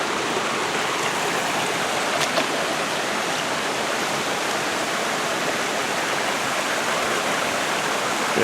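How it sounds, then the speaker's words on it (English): Breakneck Falls, a waterfall on a side creek at McConnells Mill, pours in a steady, full broadband rush of falling water, close and constant throughout with no voices. "This is Breakneck Falls coming down here."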